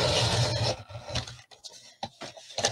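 A paper trimmer slices through cardstock with a brief, close rasping scrape, followed by a few light clicks and taps as the blade and paper settle.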